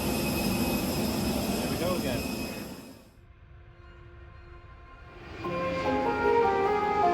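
A steady, loud jet airliner cabin roar from a flight over Indonesia fills the stretch, dipping briefly in the middle before swelling back, with no talk over it.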